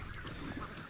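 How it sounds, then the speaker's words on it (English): Ducks honk and quack near rice fields in Bali, close and fairly loud against a steady outdoor background with no talk. "you see that ducks"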